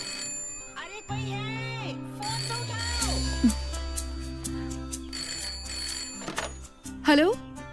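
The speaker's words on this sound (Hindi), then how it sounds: "फोन तो उठाओ" A telephone bell rings repeatedly in a Hindi romantic film scene, sounding moderately close and layered under background music, with voices speaking over it.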